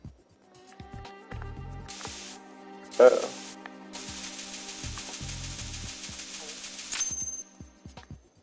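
Spray bursts from the video game Metal Gear Solid 2: a long hissing spray and shorter bursts come in distinct pulses over quiet game sounds and footsteps, with a brief voice grunt partway through.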